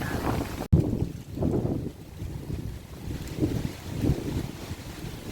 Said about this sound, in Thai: ลมแห้งอุ้ย ลมแห้งค่ะที่นี่จ้ะ